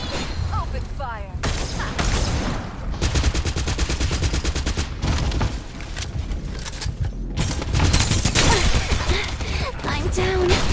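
Loud gunfire from the video game Farlight 84, with rapid automatic bursts and rattling volleys that continue throughout, while a voice speaks briefly over the shooting.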